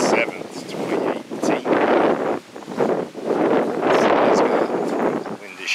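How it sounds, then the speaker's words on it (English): Wind gusting outdoors on a February afternoon after a cloudburst, a loud, broad rushing roar that swells and dips in gusts and buffets the microphone throughout. "The wind has shifted around."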